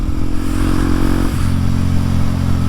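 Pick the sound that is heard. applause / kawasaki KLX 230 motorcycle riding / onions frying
kawasaki KLX 230 motorcycle riding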